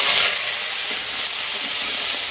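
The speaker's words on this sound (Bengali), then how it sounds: "কেটে রাখা কাঁকড়াগুলো এবার তেলের মধ্যে দিয়ে দেবো" Cut crabs hit hot mustard oil in a wok, giving a loud, dense, steady sizzle and hiss close by.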